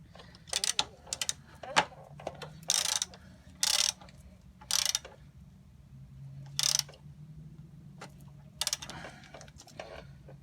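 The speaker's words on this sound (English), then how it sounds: "using a ratchet with a 13mm socket, I'll go ahead and tighten them all the way" A ratchet fitted with a 13mm socket tightens bolts on a 2014 Ford Escape during a radiator and cooling fan replacement, giving close, loud bursts of rapid clicking in short, uneven strokes separated by brief pauses.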